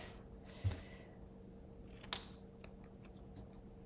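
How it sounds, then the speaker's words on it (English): Scissors snip paper for a Christmas reindeer greeting card, two sharp separate cuts about a second and a half apart, close and quiet with no talking. "I'm going to snip it apart."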